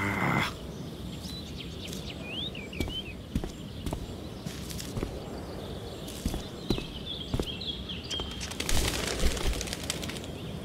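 In the video game Life is Strange: Before the Storm, a bird chirps and flutters off amid faint outdoor ambience, with scattered soft clicks and steps, all fairly quiet.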